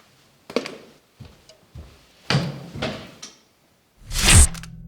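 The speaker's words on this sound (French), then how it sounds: "La porte du compartiment B52 vient de se fermer" A train compartment door slides and thuds shut: a few scattered knocks and bumps lead to a loud, close slam near the end, with no voices.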